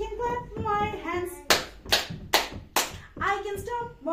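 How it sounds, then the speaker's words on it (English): Children clap their hands in time during an English lesson song, several sharp group claps in a steady rhythm between sung lines, close and clear. "I can clap my hands."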